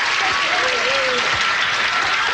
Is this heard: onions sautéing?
no